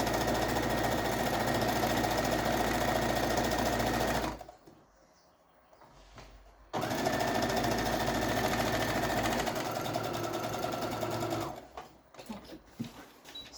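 A sewing machine runs in two long stretches of fast, rhythmic close-up stitching on a fabric placemat sewn without backstitch, separated by a short quiet pause and ending in a few faint clicks.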